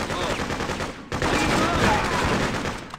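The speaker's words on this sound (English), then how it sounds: "Find cover, we're taking fire!" Rapid gunfire from the video game Freedom Fighters rattles through a battle, an almost continuous automatic burst that swells after a brief break, loud and close with faint shouting mixed in.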